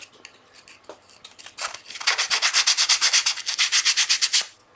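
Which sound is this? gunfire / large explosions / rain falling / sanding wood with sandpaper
sanding wood with sandpaper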